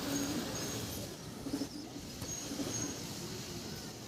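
A pilka tournament-flying pigeon in Howrah gives a few faint, low coos, spaced about a second apart, over steady background noise.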